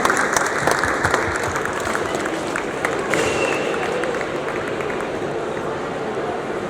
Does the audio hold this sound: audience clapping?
yes